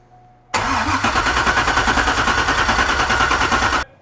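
A carbureted LS1 V8 in a trashed C5 Corvette fires after a cranking click, then settles into a loud, close, choppy rumbling idle for about three seconds before cutting off abruptly into near silence.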